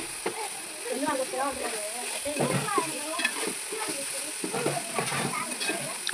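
Onions and tomato pieces frying in a pan are stirred with a steady, close sizzle and scraping throughout, while children's voices chatter over the cooking.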